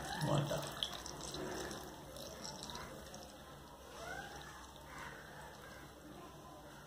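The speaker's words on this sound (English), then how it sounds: "I will add the water." Water is poured into a cooking pot of Kootan Choru, a mixed rice dish, making a quiet, continuous splashing trickle over steady background noise.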